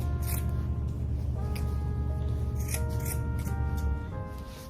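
Scissors snip through material for a Grinch-themed Christmas tree decoration, making a few crisp cuts over steady background music.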